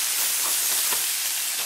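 Precooked sausage warming in a pan gives off a steady, close sizzling hiss, alone and without speech.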